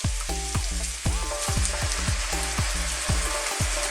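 Garlic shrimp sizzles in a pan after chili flakes and fish sauce go in, a close, dense frying hiss overlaid with a rapid run of regular clinks and taps of a utensil stirring against the pan.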